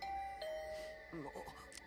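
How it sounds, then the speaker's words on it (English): A doorbell chimes in the video game The Hundred Line: Last Defense Academy, a clear two-tone ding-dong ringing out, followed by a brief murmur of voice-like game sound over a low background tone. "I've been ringing your bell constantly since yesterday."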